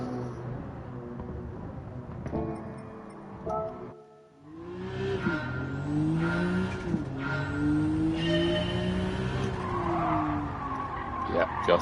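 Race car lapping in Gran Turismo 7 with muted cockpit-view audio: a steady engine drone rising and falling in pitch through gear changes, with a brief dip to near quiet mid-lap, continuous and fairly subdued.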